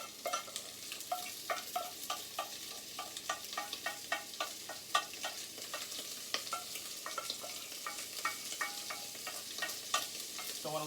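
Ingredients, garlic among them, sauté in a pot with a soft continuous sizzle and frequent stirring scrapes and clicks, fairly quiet and close, no talking.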